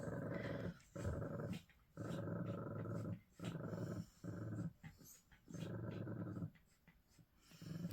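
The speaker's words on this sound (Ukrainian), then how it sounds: "вона восьмий день гарчиться на нього" A Bichon dog growls up close, a low rumbling growl that comes in long sustained stretches broken by brief pauses, repeating about six times with no talking over it.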